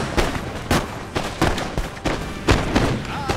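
Musket volleys from guard infantry crack out in Napoleon: Total War, a rapid string of sharp, close bangs roughly every half second over a continuous battle din.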